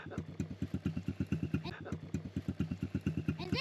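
A CRF 110 pit bike idles beside a mud pit with a rapid, even thumping beat close to the microphone, while people talk over the engine.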